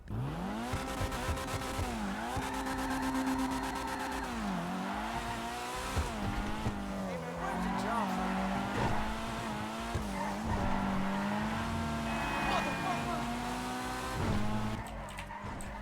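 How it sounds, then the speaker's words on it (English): A Dinka Postlude racing car engine in GTA Online revs and shifts repeatedly over about sixteen seconds, with tyre squeals and skids layered on top, continuous and fairly loud. "Here is the sound test for you guys."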